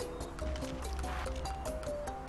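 A goat splashing into water in Goat Simulator, brief liquid sloshing and dripping sounds with a faint tonal game background, someone talking faintly over it.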